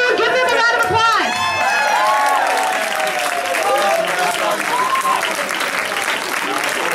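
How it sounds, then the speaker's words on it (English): An audience at a live show breaks into a round of applause, dense clapping with whoops and cheers at first, then settling into steady clapping with chatter and shouts mixed in, loud and close. "Everyone give them a round of applause!"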